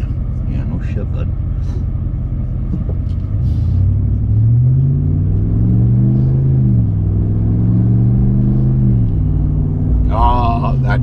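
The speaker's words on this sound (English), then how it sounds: "very nice sounding exhaust system" A lifted classic Ram truck's exhaust gives a deep, steady rumble while driving, rising and falling as the engine revs, with people talking over it.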